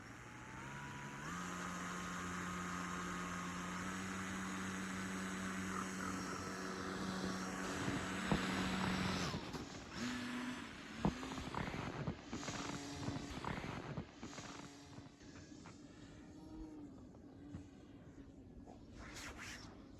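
A steady electric motor whine with propeller buzz from an FT Tiny Trainer RC plane holds for several seconds, then turns rough and fluttery with clattering bumps as it fades unevenly.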